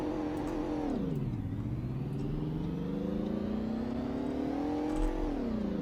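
A video game car, the slowest in the game, accelerates in a top speed test in Greenville. Its engine drone rises in pitch, drops with a gear change and climbs steadily again, loud and continuous with no talk.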